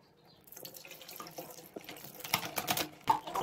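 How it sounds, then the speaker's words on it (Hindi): Water poured over a dirty air conditioner part in a sink during cleaning, starting quietly and then splashing and trickling with irregular bursts and drips, close and moderately loud. "अब इस पे डालेंगे पानी।"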